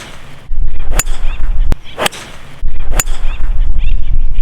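Homemade golf club built from car parts strikes a ball outdoors, three sharp ringing impacts spaced about a second apart, loud over a low rumble of wind and background noise.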